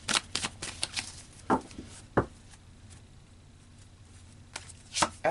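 Tarot cards being shuffled by hand, with bursts of riffling and slapping taps at the start and end and a quieter stretch in between.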